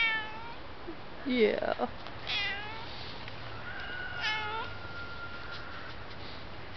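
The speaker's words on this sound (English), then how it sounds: "One of our spoiled kitties wanting attention" A pet house cat meows insistently for attention, several short calls and a longer drawn-out meow at close range, with a person briefly talking in the background.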